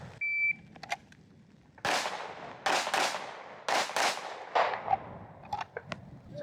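Pistol shots fired at targets during performance pistol training, several sharp loud cracks in uneven bursts with short gaps, plus faint beeps and quieter pops between.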